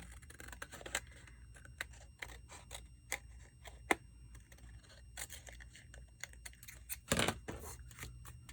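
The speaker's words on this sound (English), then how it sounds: "And then I will take my scissors" Several short, crisp snips of scissors trimming the edge of a paper tag, scattered irregularly, with a louder cluster near the end; close and fairly quiet, no talking.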